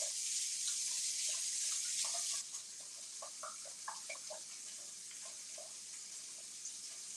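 A kitchen tap runs with a steady hiss of water that drops lower partway through, followed by soft splashing and scattered drips as hands are washed.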